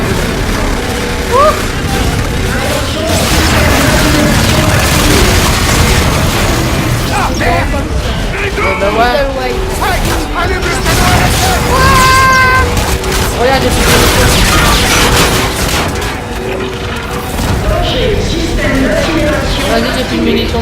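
Dense gunfire and booming explosions from a Call of Duty: Infinite Warfare campaign mission, loud and sustained with rapid shots and blasts, mixed with in-game voices talking over the combat.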